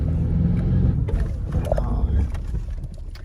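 Four-wheel-drive vehicle engine revving and straining while stuck bogged on a scratchy off-road track, a steady loud low rumble throughout with brief faint voices.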